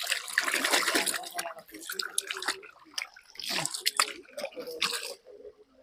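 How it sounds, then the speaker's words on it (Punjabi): Hands being washed with water on a farm, with splashing and dripping in irregular bursts at close range, pausing briefly between rinses. "ਹੁਣ ਆਪਾਂ ਹੱਥ ਤੇ ਲੱਗੇ ਧੋ"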